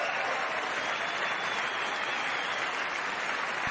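Audience applause and cheering fill a large chamber during the State of the Union address, a dense, steady roar of clapping that holds loud and unbroken throughout.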